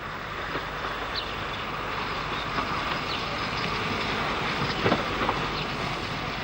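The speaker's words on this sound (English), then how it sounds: "At Pinnock's Junction, 4F number 44074 drops a rake of empty wagons off into the sidings." An LMS 4F steam locomotive shunting a rake of empty coal wagons into sidings at a junction gives a steady, fairly distant rail rumble, with faint clanks and a slightly louder bump near the end.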